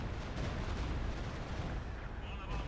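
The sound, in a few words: Stuka dive bomber strike in video game Company of Heroes 2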